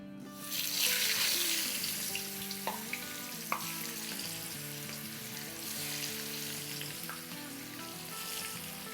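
Marinated chicken hitting hot oil, a bright continuous sizzle swelling at the start and holding steady, with a few sharp crackles and faint utensil taps over a low background hum.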